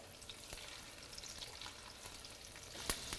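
Ciambotta of plum tomato, pepper and zucchini frying in a pan, a steady broadband sizzle with soft scraping stirs and a sharp utensil clack near the end, close and alone without talk.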